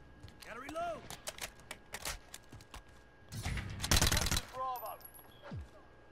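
Gunfire in Call of Duty: Modern Warfare, scattered sharp shots and a dense burst of automatic fire in a multiplayer match, mixed with game effects and a player's voice talking.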